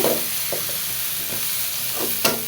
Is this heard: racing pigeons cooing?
no